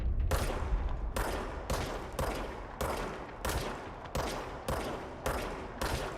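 Rapid bursts of gunfire from the video game Control, about eight sharp shots at a steady rhythm, loud and close with ringing tails between them, no talk over them.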